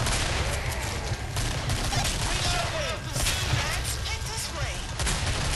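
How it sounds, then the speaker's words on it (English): Gunfire in the video game Killing Floor, dense rapid shots and bursts layered over one another in a continuous loud barrage, with players talking underneath. "Oh crap, I shot an extra bullet."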